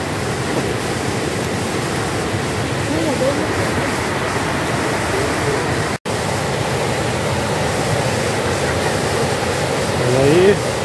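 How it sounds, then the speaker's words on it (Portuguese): A constant broadband rush of a falling waterfall near Abelardo Luz, Santa Catarina, Brazil fills the clip, with faint voices underneath and a brief dropout partway through. "Tá chegando na cachoeira."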